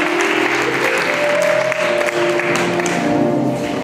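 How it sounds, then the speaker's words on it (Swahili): Guests at a wedding reception breaking into loud, sustained applause, dense clapping from a large crowd filling the room steadily with a few voices and tones mixed in. "Hebu pigieni Yesu makofi mingi."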